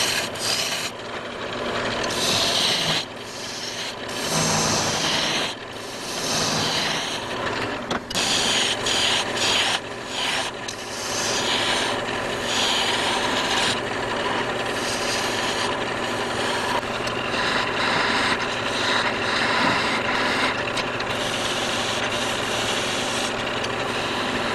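Wood shaft of a ring post being turned down on a lathe, a steady loud scraping rasp of the cutting tool against the spinning workpiece, continuous with brief dips and swells as the cut varies, no talk.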